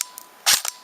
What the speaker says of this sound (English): this is going to be the shooting test at approximately 60 feet